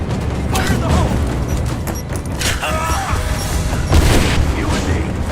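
A grenade explodes in a video game amid bursts of gunfire, giving loud, close booms and rattling shots over dense battle noise, with voices mixed in.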